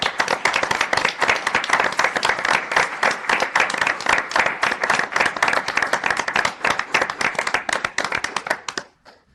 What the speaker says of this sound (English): And then can we give the interns a round of applause?